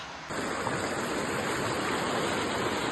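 A river used as a bathing spot near the Kukke Subramanya temple flows steadily, with a dense, even rush of water that starts abruptly and continues close and fairly loud.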